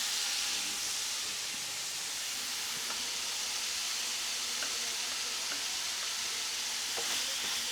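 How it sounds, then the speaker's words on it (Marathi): Paneer sautés in a pan over a high flame, crackling with a steady bright sizzle and hiss while faint stirring ticks sound now and then. "आपल्याला हलकेसे जरा थोडंसं गॅस मोठं ठेवून पनीर परतवून घ्यायचं आहे"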